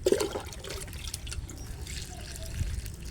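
Water is poured over duck feed made from rice bran, feeds and banana, a close, gurgling trickle with a brief louder splash at the start before easing into a softer, steady flow.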